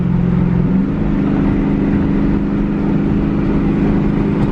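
A WS6 Pontiac Trans Am with cam, intake and headers holds a loud, steady high rev as its street tires spin, a continuous close roar with no pauses.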